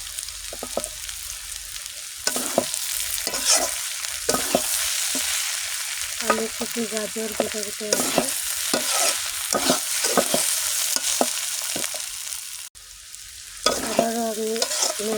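Mixed vegetables of potato, cauliflower and carrot frying in a pan and stirred in brief bursts, scraping clatter over a steady sizzle, continuous and close, with a voice talking through much of it.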